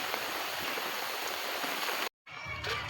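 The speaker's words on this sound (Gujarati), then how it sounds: "વરસાદ પડવાનું ચાલુ છે" Steady rain falls over a farm field, a dense even patter close by that runs without a break, then cuts off for a moment before resuming.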